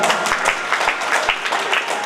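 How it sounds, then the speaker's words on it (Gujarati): An audience at a religious Bhagavad katha discourse in a Swaminarayan temple claps steadily and fairly close, a dense even patter of many hands sustained for about two seconds. "તાળીઓ પાડો"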